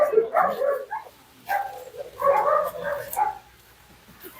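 Several dogs in a farm kennel bark and yip in quick bursts with short pauses, fairly close, with no talking.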